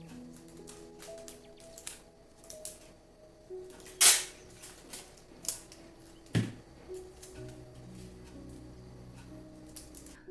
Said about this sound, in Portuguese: Então eu vou estar usando essa fita adesiva larga e transparente.